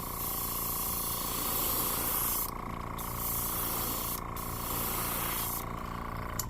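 Airbrush spraying chartreuse paint onto an X-Rap Smokey Shad fishing lure at about 20 PSI, a steady close hiss of air and paint that breaks off briefly a few times between passes.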